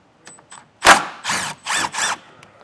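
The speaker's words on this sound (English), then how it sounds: "You can remove these with a 10mm socket." Ratchet with a 10mm socket loosening plastic nuts on a 2024 Jeep Grand Cherokee, a few short bursts of close ratcheting clicks with brief pauses between them, no talking.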